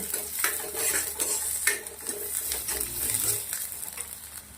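Carrots and bell peppers sizzle in a pan with fried garlic and onion while a utensil repeatedly scrapes and clatters against the metal, a busy, close-up stir-fry for chilli paneer with no talking.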